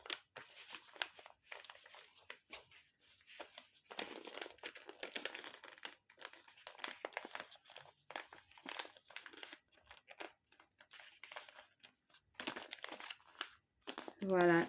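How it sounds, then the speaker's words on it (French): An envelope stuffed with small products is folded shut, giving soft, scattered crinkling and rustling of paper and packaging at close range, with a quiet voice talking intermittently. "je la referme l'enveloppe"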